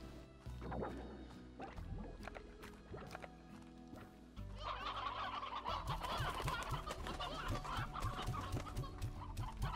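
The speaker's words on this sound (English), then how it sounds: "Oh, that poor chicken." Chickens in Slime Rancher cluck and squawk in quick, bright bursts, clustered and fairly close, growing busier and louder in the second half amid other game noises.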